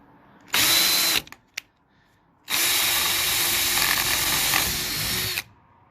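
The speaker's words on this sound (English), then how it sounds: "So I'm going to go ahead and just start drilling. This is a 1/8 drill bit." A power drill with a 1/8 bit bores out a rivet on a truck cap, a short whining burst, a couple of quick blips, then a longer steady high-pitched drilling run that stops abruptly.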